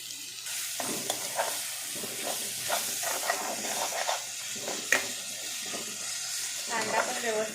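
Onion frying in a spiced paste for egg dum biryani, a steady close sizzle and hiss broken by repeated scrapes and stirring knocks of a spoon in the pan, with no voices.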